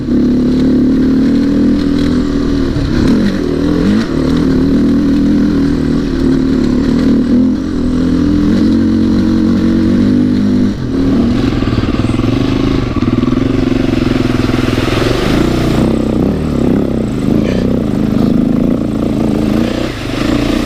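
Loud, continuous KTM 640 motorcycle engines drone close by, with revving and shifting tones swelling and fading as the bikes pass, no talk.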